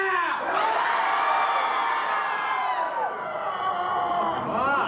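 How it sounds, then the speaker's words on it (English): A live audience at a horror-themed show screams together on cue, a loud, sustained wall of high shrieks and whoops, swelling briefly at the start and rising again near the end. "Let me hear you scream now."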